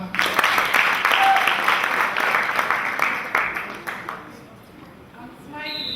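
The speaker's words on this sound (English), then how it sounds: "Please let's clap for her." Audience applause at a 2013 NIPUD Challenge debate final fills the room, steady broadband clapping that fades out near the end as a voice begins.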